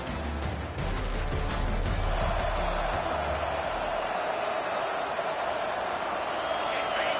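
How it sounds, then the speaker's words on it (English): A roaring stadium crowd at Kinnick Stadium in the College Football 25 video game sends up a loud, sustained wash of noise, with a dense broadband roar and low rumble holding steady from start to finish. "This crowd, full throat, splitting the eardrums"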